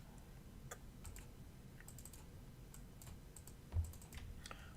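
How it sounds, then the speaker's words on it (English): Soft, close computer keyboard typing in irregular short bursts of keystrokes over a low steady background hum. "I'll actually type this up so you can see it."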